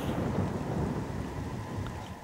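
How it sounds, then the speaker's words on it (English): Steady, dense rain mixed with a deep rolling rumble of thunder fills an outdoor scene in the video game Metroid Prime, loud and continuous with no talking. "Look at that rain."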